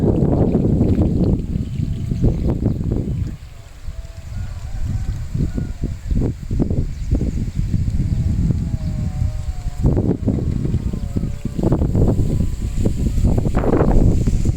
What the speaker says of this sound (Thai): เสียงลมว่อยวอย